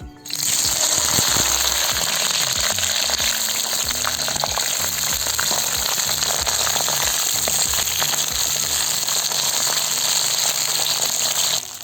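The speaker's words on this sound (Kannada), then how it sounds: "ಅದೇ ಎಣ್ಣೆಗೆ ಬದನೆಕಾಯಿ ಹಾಕ್ತಾಯಿದ್ದೀನಿ" Brinjal pieces sizzle steadily in hot oil for a village-style pachadi, a dense continuous frying hiss with occasional crackles, close and even throughout with no talking.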